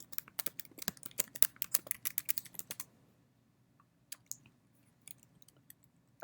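Terminal command being typed on a computer keyboard: a quick burst of crisp, close key clicks for a few seconds, then quiet with a handful of scattered single key presses.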